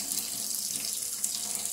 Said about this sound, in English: And we'll put a little bit more hot water in there.